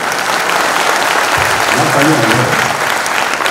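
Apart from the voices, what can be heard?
audience applause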